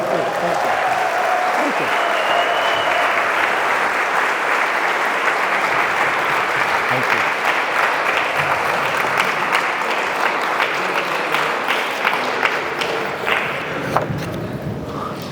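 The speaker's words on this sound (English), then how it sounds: "Round of applause" Sustained applause from a sizable crowd at a ceremony fills the room, steady clapping with a few whoops, continuing for many seconds.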